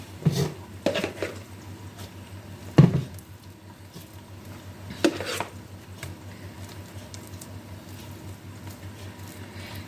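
Ingredients stirred in a bowl, making a few soft scraping and clinking knocks close by that are spaced irregularly over a steady low hum.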